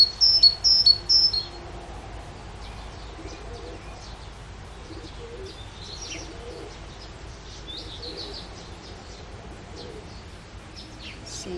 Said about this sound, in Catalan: No sé si vosaltres sentiu els ocells